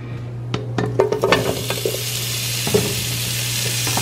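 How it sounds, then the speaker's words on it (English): Pork chops sizzle steadily in a frying pan, with a few sharp pops and crackles early on, close and fairly loud. "Nice little sizzle."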